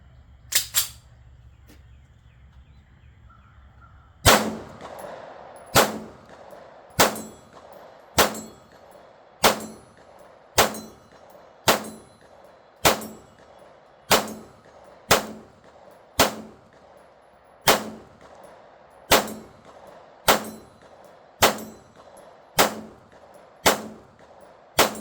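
Steady string of pistol shots from a Springfield Prodigy 1911 with a 4.25-inch barrel, each followed by a ringing clang of steel targets at 50 and 100 yards, about twenty evenly spaced reports with no talk.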